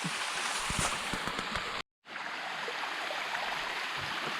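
Steady rushing and splashing of a small waterfall nearby, continuous apart from a brief cut in the middle.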